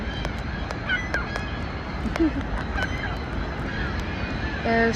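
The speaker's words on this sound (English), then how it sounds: "Wow, that's so many seagulls" Several large birds honk and squawk in scattered calls over a steady outdoor wash of wind and surf.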